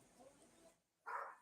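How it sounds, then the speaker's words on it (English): A pet dog named Maddie barks from another room of a house, a muffled yelp or two at a distance, with one louder bark standing out near the end over faint room noise. "She's barking like a loon back there"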